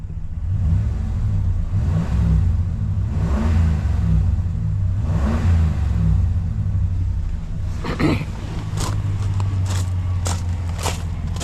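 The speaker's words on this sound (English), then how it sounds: "But very nice engine." A 2015 Ram truck engine rumbles loud and close, rising and falling through several revs, then settles to a steady idle while a few sharp knocks sound near the end.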